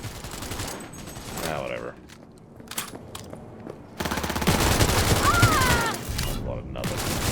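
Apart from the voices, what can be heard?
gunfire from new guns in the video game Cyberpunk 2077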